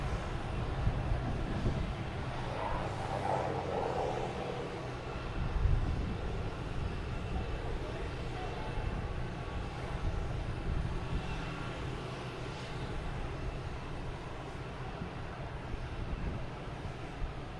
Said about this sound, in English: We have Delta A321neo heading to San Diego. Flight 571.